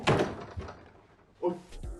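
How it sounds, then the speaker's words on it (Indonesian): A door opens in a room, giving a soft clunk and creak early on and another thud near the end, heard at moderate distance with faint background murmur. "ia beberes diri dan langsung membuka pintu"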